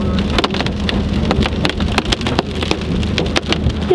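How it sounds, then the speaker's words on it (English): Large hail hammers down hard in South Dakota, a dense, close, continuous clatter of sharp impacts on a surface with no voices. "Oh man, that's a big hail."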